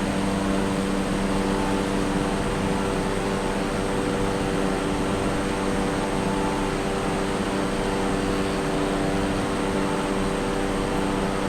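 A Cessna Grand Caravan turboprop engine drones in Microsoft Flight Simulator 2020 as the plane flies on autopilot. The hum is steady, even and unbroken, with a constant tonal whine, and nobody speaks.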